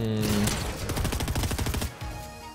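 Rapid bursts of gunfire from the video game Fortnite, dense repeated shots for about two seconds, loud and close, then tapering off.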